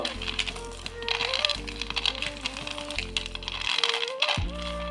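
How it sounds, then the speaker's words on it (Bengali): Cooled roasted peanuts are rubbed between the hands to loosen their skins, making a continuous, close rattling clatter of nuts under background music. "এইভাবে হাত দিয়ে খুব ভালোভাবে ঘষে ঘষে বাদামের খোসাগুলো ছাড়িয়ে নেব"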